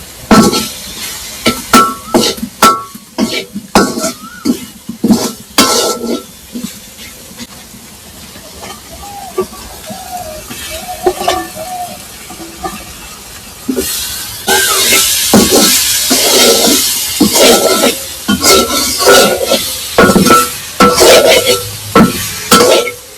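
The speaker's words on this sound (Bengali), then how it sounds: "এখন এখানে নেড়ে দিব।" Onions fried in a pan with salt, chili and ginger are stirred with a spoon. Scraping strokes come first, then a louder continuous sizzle rises under repeated stirring, close up.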